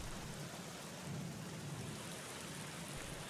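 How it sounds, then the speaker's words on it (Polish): Rain pours steadily in the Black Mirror adventure video game, a faint but dense, even hiss of falling water with a low rumbling undertone throughout, with no voices. "Znowu pada deszcz."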